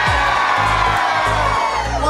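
A Medieval Times dinner-tournament crowd in Buena Park, California cheers for the knights, a loud dense roar of whoops and shouts holding steady for a couple of seconds.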